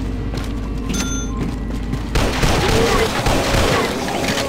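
Bursts of gunfire in the video game Dead Trigger 2 crack and boom in rapid volleys, growing denser and louder halfway through, with voices faintly underneath.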